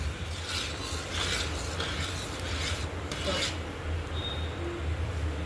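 A laddu mixture of milk and sugar syrup scraped and stirred in a pan, a steady close rasping with scattered brighter scrapes, continuous over a low background hum, no voices.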